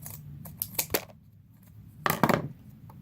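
Scissors snipping through material while a well is being made, a few quick close cuts in a short burst, a pause, then another cluster of crisp snips, with no talking.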